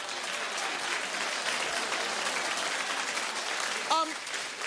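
Studio audience applause at a daytime talk show, a steady, moderately loud wash of clapping that holds throughout, with a brief voice near the end.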